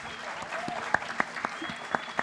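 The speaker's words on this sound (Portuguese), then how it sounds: "uma salva de palmas para Marta" Soft, steady applause at a Portuguese talk about meat consumption, with a few sharper distinct claps standing out over the even patter of a small audience.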